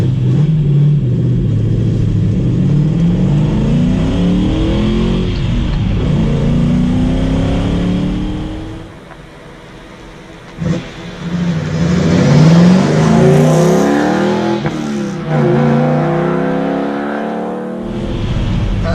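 A deep V8 engine of a 1974 Alfa Romeo Montreal revs loudly several times, pitch climbing and dropping, then drops to a low rumble before roaring up again.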